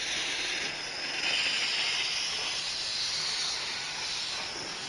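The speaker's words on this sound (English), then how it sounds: "The fire heats the water and makes steam." Steady hiss of steam escaping from a 120-year-old steam engine, loud and continuous at close range with no voices over it.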